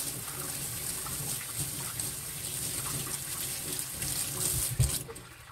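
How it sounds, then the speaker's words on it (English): A kitchen tap runs steadily while hands are washed beneath it, a continuous close splashing hiss with a slight rise in the flow near the end, no voices. "I'm going to go ahead and wash my hands"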